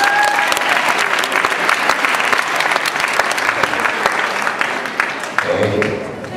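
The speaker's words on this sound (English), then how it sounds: "Big round of applause for them, please." An audience at a beauty college special event applauds loudly and continuously, a dense roar of clapping from start to finish that eases slightly at the very end.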